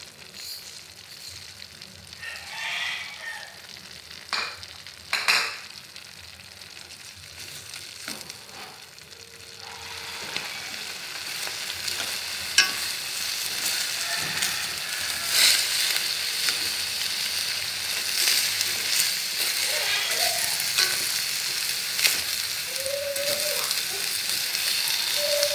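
Beef and winged beans stir-frying in a pan, with fish sauce added: a steady, loud sizzle and crackle throughout, with occasional clinks and stirring scrapes close by, and no speech.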